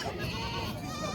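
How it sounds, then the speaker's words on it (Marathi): Faint bleating of a goat at a village goat market in Hingoli district, a short wavering call heard briefly against a quiet background. "पुन्हा पाहू शकता गावरान शेळी आहे"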